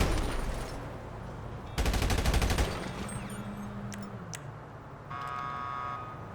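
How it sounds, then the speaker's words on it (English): Enemy gunfire in GTA Online, a dense automatic burst of rapid shots near the middle, with scattered cracks around it and an alarm-like tone near the end, loud and close. "there are going to be a bunch of people shooting at you"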